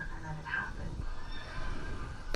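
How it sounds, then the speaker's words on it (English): A horse neighs briefly in a TV show's scene, a short whinny under a steady bed of background sound and voices. "It's probably Dwight with the horses."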